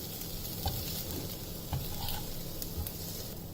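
Poha being stirred in a pan with the heat just switched off, after lemon juice is added, giving a steady close scraping and faint sizzle that continues throughout, with no talking.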